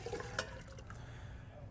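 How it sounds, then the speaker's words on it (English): Water poured back into a container during fresh mozzarella making, a steady low splashing wash with a brief louder slosh early on and a final splash at the end, heard alone without talk. "what I do is I pour the water back in."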